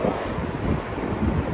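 Sea waves wash on a shore as strong wind buffets the microphone, a dense, continuous close roar with no distinct breaks and no talk.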